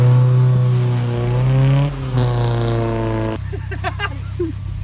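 Nissan Sunny truck engine revving up close, a loud strong note climbing in pitch, dropping back, then settling into a rougher idle with some faint background noise.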